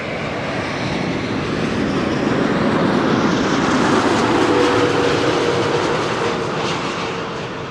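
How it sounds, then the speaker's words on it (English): An Airbus A330neo airliner passes at Amsterdam Schiphol Airport, a steady broadband engine roar that builds slightly toward the middle and holds loud throughout, with no voices. "This is an A330neo."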